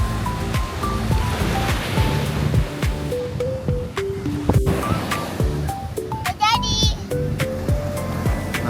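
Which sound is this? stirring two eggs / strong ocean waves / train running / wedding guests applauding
strong ocean waves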